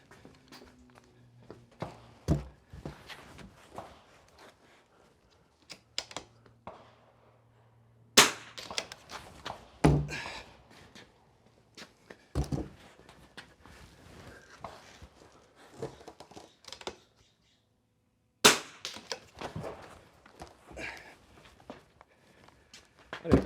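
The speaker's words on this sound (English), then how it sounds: "I don't even know how many shots I've taken." Rifle shots at an outdoor NRL22 shooting range match, sharp cracks fired singly and in loose clusters with quiet gaps between, alongside gear handling and faint movement.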